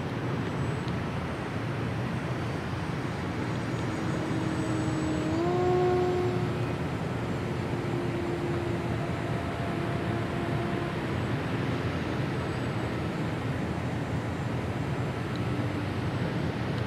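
An E-Flite Sukhoi Gen 2 RC model airplane whines through the air on its maiden flight, a steady motor drone with pitch shifts as it maneuvers at mid distance.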